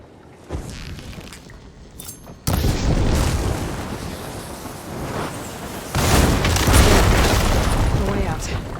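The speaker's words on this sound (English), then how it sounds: "I should be able to hitting those blaze barrels with fire ammo." Blaze barrels blowing up after being hit with fire ammo in Horizon Forbidden West: a sudden loud boom followed by a sustained roaring rumble, then a second heavy blast that keeps rumbling.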